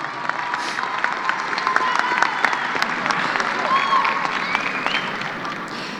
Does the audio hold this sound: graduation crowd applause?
yes